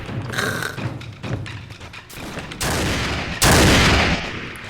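Gunfire in the video game Marvel Daimyo Edition: loud repeated shots and thumps in uneven bursts, with a heavier blast near the end, no speech.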